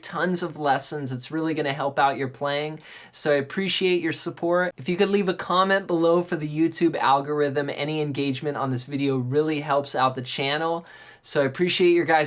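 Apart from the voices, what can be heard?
No distinct noise like a dog, phone or traffic.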